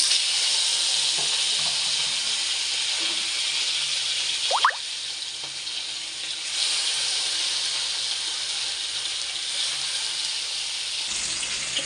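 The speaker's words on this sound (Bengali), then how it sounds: "তেল গরম হয়ে গেছে, মাছটা দিয়ে দেবো মাছ।" Fish pieces fry in hot oil with a loud, steady hiss and crackle that runs throughout, interrupted once by a brief sharp squeak of movement partway through.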